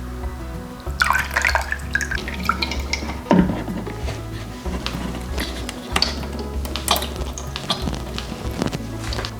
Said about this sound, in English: I'll put 4 litres of water in here and filter it through